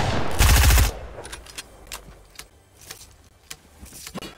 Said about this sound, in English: Yeah, that's exactly how a minigun sounds.